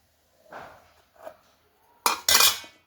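A knife cuts rolled-out chapati dough for dal phal on a nearby surface: a few soft scraping cuts, then two sharp, louder metallic clinks in quick succession, with no talking.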